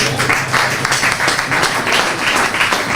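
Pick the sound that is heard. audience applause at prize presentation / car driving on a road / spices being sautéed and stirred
audience applause at prize presentation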